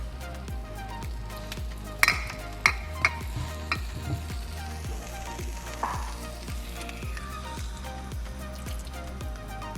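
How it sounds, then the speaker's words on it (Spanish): Fish frying in a shallow layer of olive oil in a pan over medium heat, a steady close sizzle broken by sharp pops and crackles near the start. "ahora vamos a poner el pescado en el aceite"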